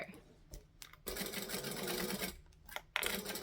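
A sewing machine stitches fabric in quick mechanical bursts, running forward and then back-stitching, close and fairly quiet, with brief pauses between runs.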